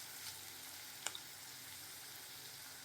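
Carrots, beans and green chillies frying in a pan give a steady, fairly quiet sizzle, with a couple of brief clicks near the middle and no voices.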